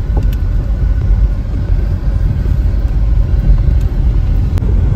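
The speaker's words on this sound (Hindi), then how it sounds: "ये देखें लोडे में अभी गाड़ी उधर जा रही है।" A vehicle passes on a road, heard as a loud, steady low rumble of engine and tyres that continues without a break, with no voices over it.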